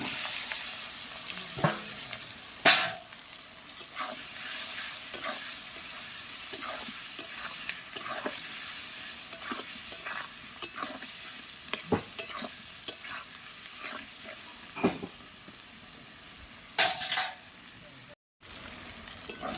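Potatoes, onions, tomatoes and green chillies sauté in oil with panch phoron, turmeric and salt, a steady close sizzle broken by frequent scraping stirs of a spatula against the pan, no talking.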